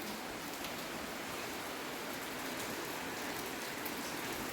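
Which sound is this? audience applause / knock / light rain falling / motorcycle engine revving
light rain falling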